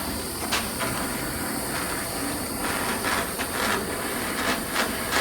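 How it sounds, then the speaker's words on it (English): Gas torch heating a steel detent post on a shotgun, a steady close roaring hiss with faint clicks and taps over it, no talking. "So using my torch,"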